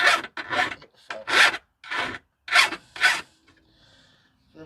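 Metal file rasping across a lawn mower blade on a flat surface, a series of distinct, loud close strokes with short pauses between them, then a faint fading tail.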